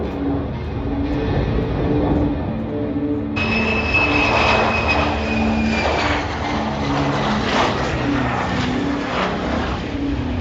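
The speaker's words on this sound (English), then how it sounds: "we've seen two jets. One bottled it, one landed." A jet aircraft flies past and comes in to land, a steady loud engine roar with a rising whine that swells and lingers, heard alone without voices.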